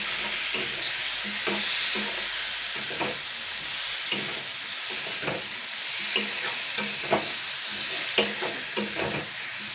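Potato pieces sautéed in a pan for a broken-potato curry, a continuous sizzle with repeated stirring scrapes and soft knocks of the spatula against the pan.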